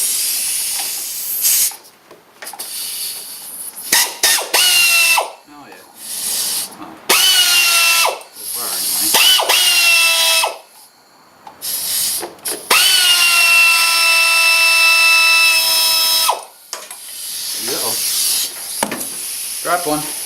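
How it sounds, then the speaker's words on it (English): An air ratchet spins bolts off the water pump of a 2006 GMC Envoy / TrailBlazer 4200 inline-six, in several loud whining bursts of one to four seconds separated by pauses, with hissing air. "air ratchet is got enough to take these off"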